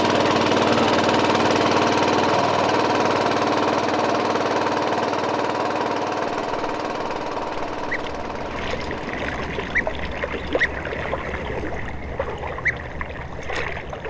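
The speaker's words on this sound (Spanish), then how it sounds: "Oscar Limachi nos ha traído, en su pequeña lancha de motor, a recorrer parte del lago menor del Titicaca." A small motorboat on Lake Titicaca's lesser lake drones steadily up close with a low engine hum, then gives way after several seconds to lighter water splashing and trickling with scattered small knocks.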